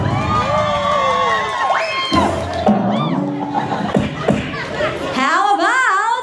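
A lively crowd cheers and shouts in bursts, with whoops and excited voices overlapping, mixed with a host's loud talking and chatter, close and energetic.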